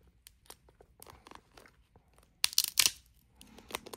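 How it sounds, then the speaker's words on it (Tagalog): A Dungeness crab shell is cracked and torn apart at close range, giving scattered small snaps and crunches, then a loud burst of sharp cracking near the middle and a few more crisp breaks afterward. "Malutong, diba? Ito po ang pagkaan ng Dungeness crab dito sa Amerika."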